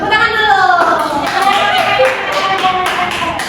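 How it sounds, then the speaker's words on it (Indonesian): A classroom group claps hands together in a loud, fairly even run of claps, with children's voices and a ringing, tonal background under the clapping. "Tepuk tangan dulu."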